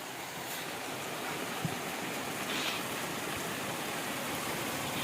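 Heavy rain falls outside in a dense, continuous hiss that stays steady and even throughout, with occasional faint drips and no voices.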